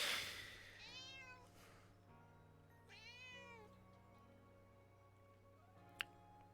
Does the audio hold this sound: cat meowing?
yes